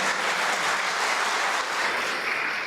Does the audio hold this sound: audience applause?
yes